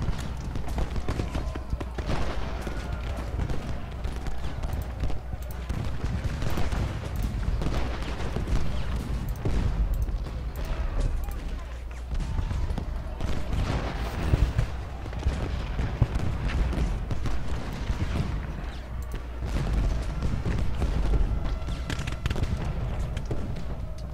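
Cannon and artillery fire from the Civil War battle game Ultimate General: Gettysburg forms a dense, continuous barrage of rumbling booms and crackling volleys, steady and mid-distance throughout.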